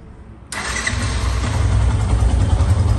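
A Yamaha FZS V2 motorcycle engine cranks and catches abruptly, then settles into a loud, steady idle rumble up close, with no voices.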